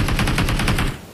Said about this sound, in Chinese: 听枪声判断敌人位置